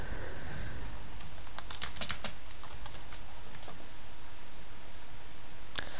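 Someone types a game name on a computer keyboard: a short run of quick, light key clicks in the first half, then a lone click later, over steady background hiss.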